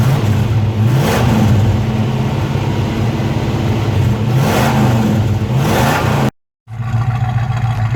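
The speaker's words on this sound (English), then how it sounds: "I'll hold the phone out and give you some revs so you see no smoke" A 1966 Ford Mustang coupe engine revs repeatedly, with rising and falling swells of a mid-pitched exhaust over a steady idle, loud and close, then a brief dropout before the idle resumes.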